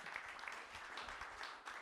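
Audience applause at a venture capital panel event, a steady wash of many hands clapping for a couple of seconds at moderate distance in a room.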